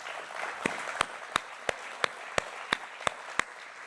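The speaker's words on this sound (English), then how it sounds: "if we could give a round of applause to those in the back." Rhythmic, evenly spaced claps ring out at a church prayer breakfast, a sparse unison beat of about ten sharp strikes over a soft murmur of background applause.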